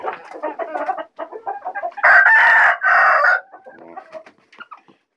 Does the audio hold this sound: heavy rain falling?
no